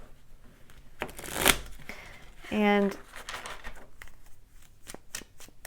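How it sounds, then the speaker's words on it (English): A tarot card deck is given a quick shuffle, a short riffling burst followed by a brief zip-like rattle of cards, with a voice speaking softly around it. "Give this deck a quick shuffle."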